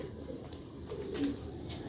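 A Sialkoti silver pigeon in a rooftop loft gives soft, low cooing, close and fairly quiet over a faint background hum.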